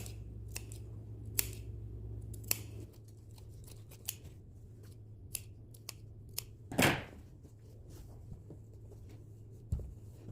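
Scissors snip through fabric during skirt sewing, giving several quiet, scattered crisp cuts over a low steady hum, with one louder snip near the middle and no talking.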